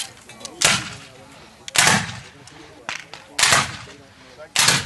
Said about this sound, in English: Firing by file. From the right. All the way down the line. Ready. Hey! Commence fire.